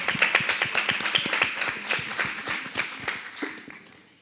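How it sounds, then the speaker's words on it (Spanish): Audience applause at a patient and family school event about epilepsy, distinct individual claps in a quick uneven patter that starts strong and gradually thins and softens toward the end. "Yo creo que ese aplauso también se lo merecen también a Amade"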